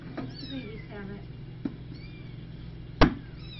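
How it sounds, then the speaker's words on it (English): Several thin, high kitten meows rise and fall in short bursts throughout, fairly soft over a steady low indoor hum, with a brief tap near the middle and a sharp knock near the end. "Oh, kitties."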